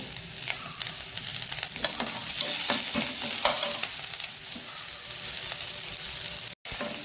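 Curry leaves fry in hot oil in a pan while sambar is being made. A steady, close sizzle crackles throughout with scattered pops, then drops out for an instant near the end.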